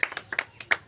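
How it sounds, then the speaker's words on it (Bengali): Hand clapping in a fun sweets-spinning challenge game, about five or six sharp, uneven claps in quick succession with no talking over them. "হাততালি হাততালি হাততালি হাততালি"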